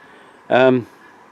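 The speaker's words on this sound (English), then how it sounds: "I'm wondering if that's a gander." A single short honk from a gander, a male goose, near a river: one loud nasal call lasting about a third of a second, standing out against quiet outdoor ambience.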